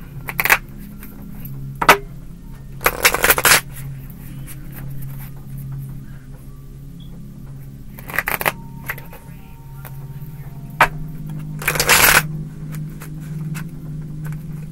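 Tarot cards are shuffled in several short, riffling bursts separated by quiet pauses, with a low hum in the background.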